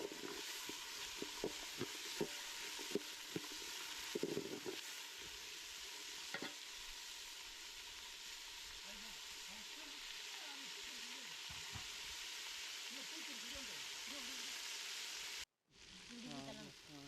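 Onions sautéing with ginger and garlic in a pan for a country chicken gravy, giving a steady broadband sizzle with scattered scrapes of stirring, continuous and fairly loud until a brief cutoff near the end.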